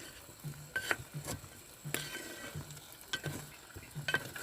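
Chicken fries in oil while a spoon stirs it, a low sizzle broken by repeated scraping and clinking strokes against the pan at a steady rhythm.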